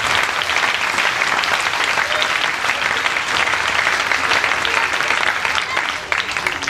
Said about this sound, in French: Je veux bien qu'on les applaudisse aussi pour les élèves et l'équipe pédagogique